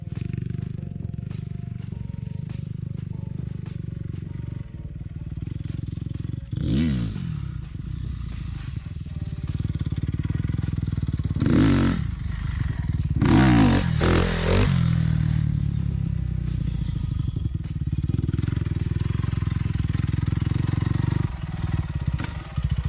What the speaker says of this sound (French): tu as trouvé le point où la moto se lève bien